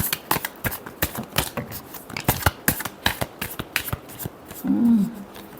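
Tarot cards being shuffled by hand, a rapid run of crisp close slaps and riffles that ends in a brief muffled rustle.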